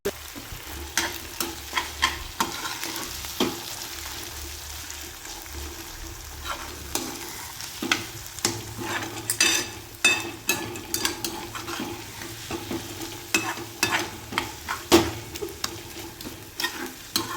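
Ridge gourd with crushed onion and tomato, salted, sautéed in a pan: steady sizzling under repeated scraping and stirring strokes of a spatula, close and clear, with no voices.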